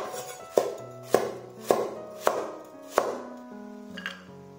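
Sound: knife slicing half a carrot

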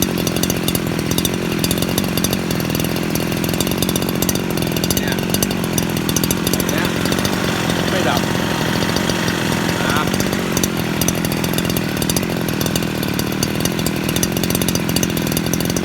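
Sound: Honda GX50 four-stroke brush cutter engine running

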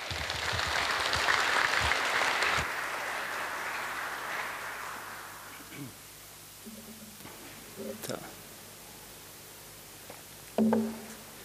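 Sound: audience applause welcoming speaker Franka

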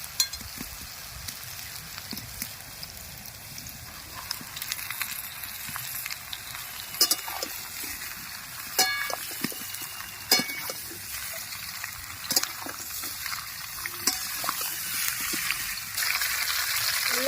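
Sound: frying onion with ripe bitter gourd

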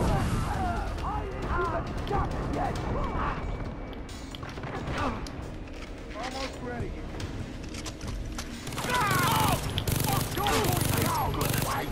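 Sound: grenade launcher firing in video game Far Cry 3

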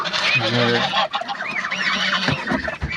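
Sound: ducks

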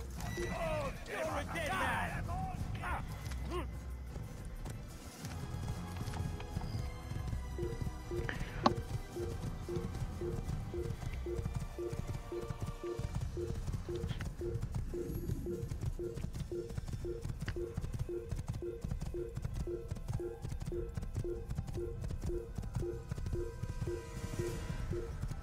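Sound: horse hooves and neighing in the video game Assassin's Creed

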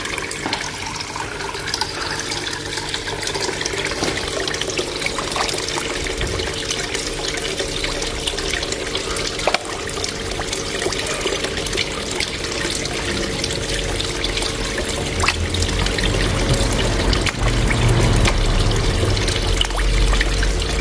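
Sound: koi pond flow blower and water tower running

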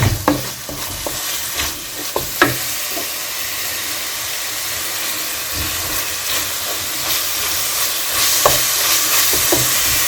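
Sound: onions frying in a pan for tinda sabzi

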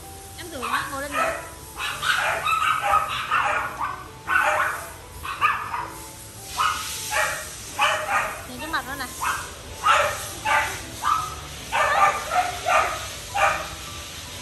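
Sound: dog barking

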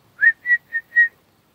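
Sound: dog vocalizing

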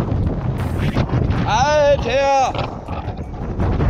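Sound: storm wind of force 9 on the coast

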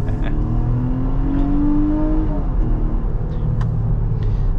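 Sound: 2023 Nissan Pathfinder accelerating, 9-speed automatic transmission shifting

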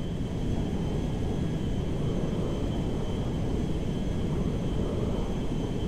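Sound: cargo jet aircraft engine in video game GTA 5

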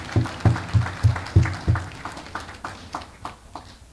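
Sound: graduates applauding at graduation ceremony

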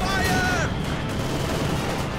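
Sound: mortar rounds firing in video game Company of Heroes 2

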